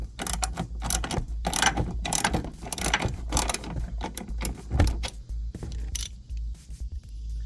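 Ratchet wrench loosely snugging bolts on a hidden trailer hitch bracket under a Kia EV6, rapid clicking pawl bursts repeating close up, alone with no talk.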